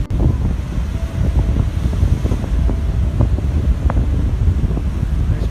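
A boat's engine rumbles as it backs up toward a harbour wall in rough, choppy water off the Norfolk coast, a steady low drone blended with heavy wind buffeting and the wash of waves.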